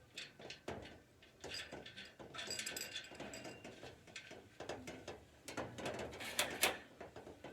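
A wrench ratchets in quick bursts of clicking while tightening a cap nut on a large garden wind spinner. The clicks repeat irregularly and sit close and fairly clear, with light handling noise between strokes.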